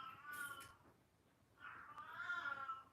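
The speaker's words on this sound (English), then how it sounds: "So that's my cat Kiki." A cat meows twice: a short cry, then after a pause a longer, drawn-out, whining meow, moderately close in a quiet room.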